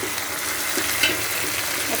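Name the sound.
tomatoes added to sizzling ginger garlic paste, stirred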